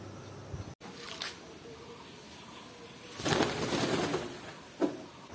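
A pigeon released onto its loft, with soft rustles and a burst of wing flapping midway, a brief flutter near the end, fairly faint and close with no talk.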